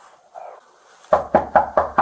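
Police knock hard on an apartment door, five loud evenly spaced raps in quick succession, preceded by faint muffled background noise.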